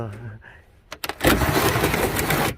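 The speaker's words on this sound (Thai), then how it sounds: "เรือบังคับครับผม" A remote-controlled crop-spraying boat used by South Korean farmers to apply herbicide and insecticide sputters with a few sharp pulls, then its small engine catches and runs loud and steady, buzzing close by.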